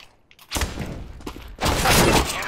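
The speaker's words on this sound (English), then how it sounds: "Throwing flashbang" A flashbang grenade in Counter-Strike: Global Offensive, heard as a soft clink followed by two loud, broad bursts of noise, the second longer and fuller, close and with no talk.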